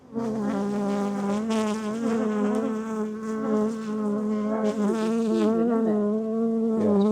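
Bees swarm around an open beehive, a loud, continuous close-up buzz with wavering pitch as insects fly near, no talking.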